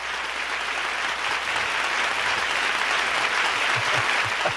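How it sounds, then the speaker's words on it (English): Audience at a Lowrey organ symphony event giving a performer a round of applause: sustained, even clapping from many hands across the whole stretch, fairly close and full. "Let's give him a big round of applause."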